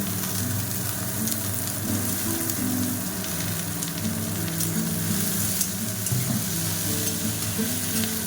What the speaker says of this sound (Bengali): এরপরে আমি কেটে রাখা সবজিগুলো এবার দিয়ে দেবো।